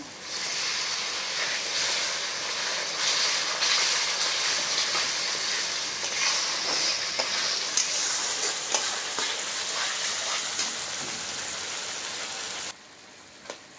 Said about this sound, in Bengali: এবার একটুখানি জল দিয়ে দেবো, মশলাটা ভালো কষানো হবে তার জন্য।